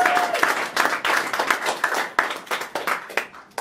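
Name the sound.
audience applause and cheering at comedy show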